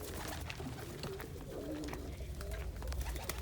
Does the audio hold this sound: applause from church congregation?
no